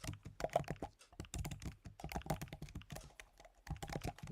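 Rapid clicking keystrokes and backspace taps on a computer keyboard, an irregular clatter of bursts with brief gaps, close and fairly quiet.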